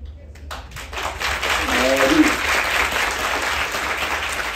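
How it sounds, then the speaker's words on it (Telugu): An audience at a university law students' induction program breaks into sustained applause after being prompted to cheer, a dense patter of clapping that swells and holds, with a voice over it. "ఇదే అంటారు, ముందు చెప్పి చప్పట్లు కొట్టించుకోవటం అంటే."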